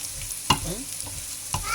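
Rice frying with smoked fish in a pan, a steady sizzle broken by two sharp scraping stirs of a utensil, close and alone without talk.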